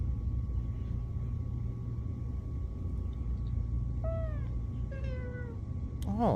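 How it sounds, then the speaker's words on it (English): A cat meows twice over a constant low rumble, with short, rising and falling calls in the middle and a brief third cry at the end. "He do a meow."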